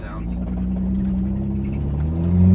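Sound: failing Kia Sedona engine revving

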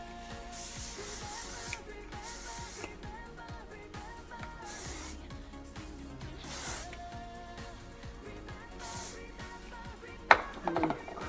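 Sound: hairspray spraying

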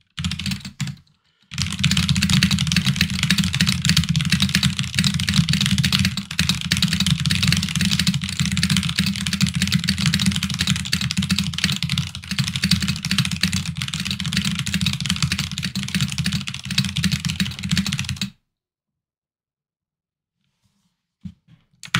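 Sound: typing on Royal Kludge RK61 mechanical keyboard

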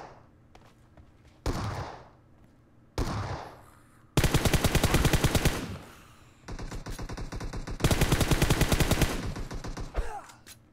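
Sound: shotgun fire at zombies in the video game PUBG Mobile

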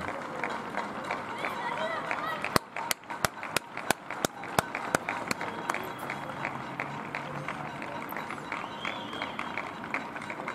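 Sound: people applauding from balconies for doctors and nurses

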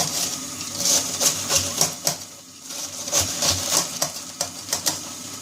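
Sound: knife chopping a small cabbage

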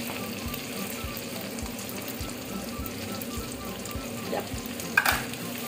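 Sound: habanero peppers sizzling and being stirred in a pan

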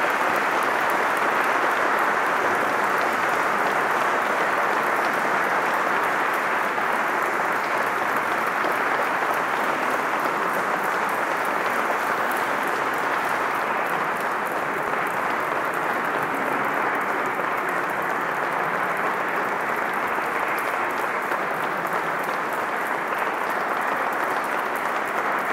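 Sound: audience applause after a talk

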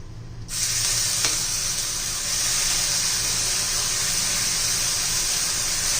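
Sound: leftover-rice uttapam batter sizzling in the pan

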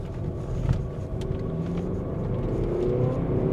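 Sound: Volvo V90 Cross Country D4 accelerating

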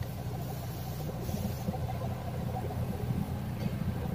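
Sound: rough knocking sound from a diesel Toyota engine

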